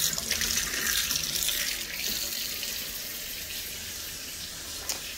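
Water runs from a tap in a manufactured home, a steady, close hiss of flow into a sink that starts a little louder and then settles, with no talking.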